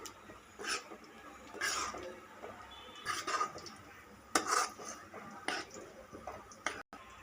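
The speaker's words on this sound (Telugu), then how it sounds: "వీటన్నిటిని ఒకసారి మిక్స్ చేసుకోవాలి" A spoon stirring paneer curry with dried fenugreek leaves and fresh coriander in a pan, giving light, irregular metallic clinks and scrapes against a soft background hiss.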